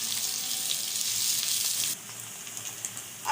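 Chopped onions frying lightly in a pan for a mutton curry, a steady hiss of sizzling that runs loud and even, then drops to a quieter crackle partway through.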